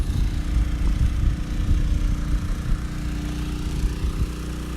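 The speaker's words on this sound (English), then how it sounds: "So here we are. We're down to one little pump." A small water pump runs at a zoo fishing pond, making a loud, steady low motor hum that drones on without a break.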